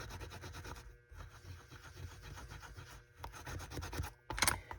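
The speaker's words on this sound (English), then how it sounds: "I'm going to burnish her on here." Rubbing and scraping strokes as a butterfly embellishment is burnished onto a fabric pocket, a steady close friction texture with a brief louder scrape near the end.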